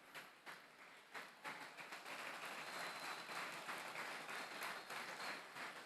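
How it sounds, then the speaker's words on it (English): An esports crowd applauds athletes at an international grand final between Malaysia and Cambodia, a sustained wash of clapping that swells after the first second and keeps up steadily, fairly distant and diffuse, with no voices standing out. "So we're giving clap to all our athletes, their dedications, their performance."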